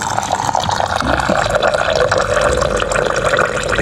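Hot water poured onto dried Lao herbal medicine leaves, a steady close splashing and trickling fill that runs continuously without a break.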